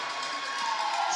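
A crowd of Fanshawe supporters in the Humber College North Campus gym cheers and whoops after a big volleyball play, a dense, steady roar of voices that holds loud throughout.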